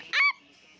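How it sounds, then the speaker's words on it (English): A rare chicken in a farming video game gives one short, bright clucking call, a close squawk of about a fifth of a second that fades into a quiet background. "A rare chicken."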